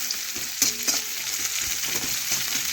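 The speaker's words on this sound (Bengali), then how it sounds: "এই দেখুন, এইভাবে নাড়াচাড়া করে ভেজে নিয়ে" Bottle gourd greens stirred and frying in a pan: continuous bright sizzle with repeated scraping strokes of a spatula, close and alone without talk.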